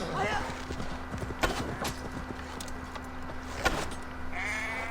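Horse hooves clip-clop in the Assassin's Creed Valhalla video game, with a steady run of light beats over a constant hum, a couple of sharper thuds and a voice speaking.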